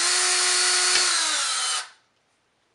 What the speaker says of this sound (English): start pulling back a little bit harder and let the drill do the work